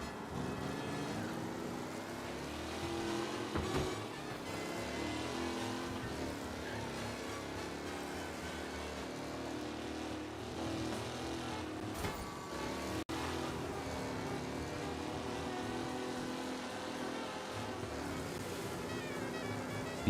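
A car engine in the game Mafia: Definitive Edition roars continuously, revving and droning loudly throughout, with no pauses and steady high intensity.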